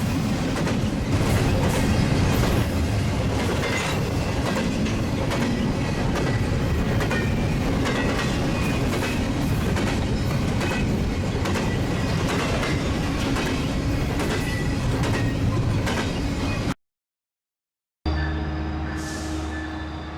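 A BNSF freight train rolls past at Fullerton, a loud, sustained rumble with rhythmic clickety-clack of wheels over rail joints, ending in a sudden cut near the end.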